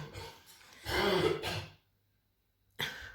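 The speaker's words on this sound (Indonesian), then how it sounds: "Beliau makan sambal kebanyakan batuk." Someone clears their throat and coughs in a rough, close burst after eating too much sambal, then falls silent before another throat-clearing starts.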